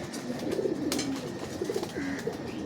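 Pigeons at a pigeon tower coo softly in a few low, rolling calls, fairly close and moderately quiet over light background noise.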